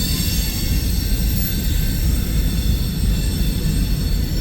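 A BNSF coal freight train rolls past at close range, a loud continuous roar of wheels and cars with high metallic squealing and rumble throughout.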